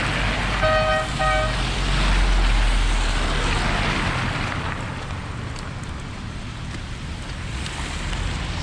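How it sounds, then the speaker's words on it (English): A car horn beeps twice in quick succession at roadworks traffic lights on a slushy road, heard from a short distance over steady wind and traffic rumble. "Hence why the car was beeping there, because he thought everybody jumped a red light."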